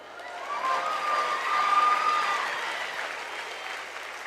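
An audience at a live Turning Point USA Student Action Summit in Tampa, Florida breaks into sustained applause with some cheering, loud and full, rising midway and then tapering slightly.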